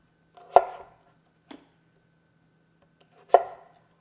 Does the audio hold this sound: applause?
no